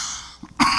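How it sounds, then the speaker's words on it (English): A single short cough, close and fairly loud, following a brief quiet pause. "Excuse me with the little cough."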